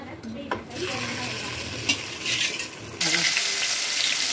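Fried nuts are stirred into sugar syrup for sheer khurma, a spoon scraping and clinking in the pan over a soft sizzle, with a louder hissing burst toward the end.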